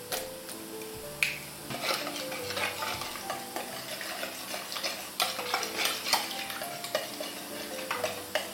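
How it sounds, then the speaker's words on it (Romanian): Three small eggs and a teaspoon of salt being mixed in a bowl as a filling, with quick irregular clicks and taps of the utensil against the bowl, close and fairly quiet. "Se face simplu, amestecăm toate ingredientele."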